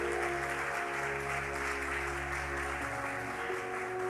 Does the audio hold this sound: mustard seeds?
no